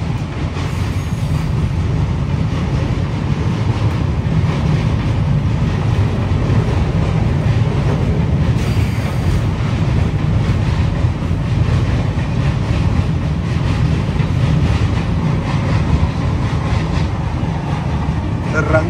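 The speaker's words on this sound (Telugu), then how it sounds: "ఏదో ట్రైన్ వెళ్ళిపోతుంది." Another train rumbles past the Andaman Express, heard from inside the carriage as a loud, steady roar of wheels and rattling with faint squeals, lasting throughout with no break.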